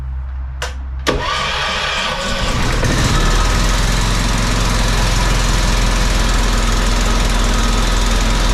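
An HVAC service van's engine turns over after a couple of sharp clicks, catches with a loud burst and settles into a steady, rough idle, heard up close with no voices.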